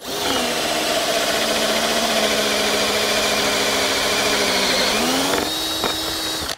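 A steady, loud machine whine drones throughout, its pitch dipping near the end as the drill bites into solid wood for a 35mm hinge hole, then a brief change before stopping.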